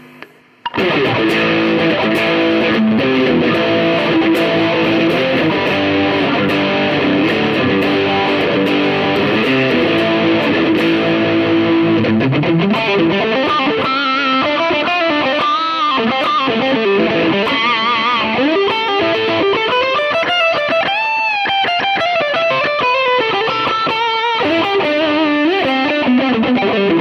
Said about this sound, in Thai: ลองเสียงแตก